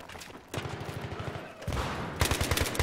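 Gunfire in the squad shooter SQDM comes in short bursts of rapid shots, two or three volleys at close to mid range, with a quieter gap between them.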